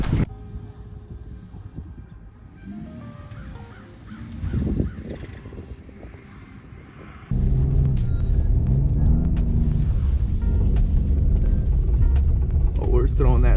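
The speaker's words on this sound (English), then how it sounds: "we're gonna see if we can do some donuts out here" A BMW F10 535xi does donuts in a snowy parking lot, its engine rumbling at a distance and then roaring loudly and steadily as the car spins and throws snow, with crow caws in the background.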